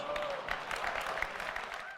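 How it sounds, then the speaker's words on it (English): Audience applause at a keynote stage event after a demo of zooming into an image on the first iPhone, a steady wash of clapping heard over and behind a talking voice. "Even something as innocuous as zooming in on an image was followed by applause"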